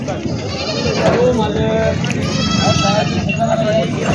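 Goats bleat at a rural goat market in Vasmat while someone talks loudly close by, and the animal calls run under and between his words.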